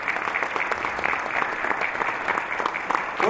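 Sustained audience applause at an anniversary evening party in Dushanbe, a dense steady patter of many hands clapping close by.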